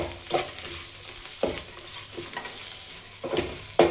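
Green masala with coriander leaves stirred and fried in a pan for a village-style chicken curry: a constant sizzle broken by several sharp scraping strokes of the spoon, close and clear, with no voices.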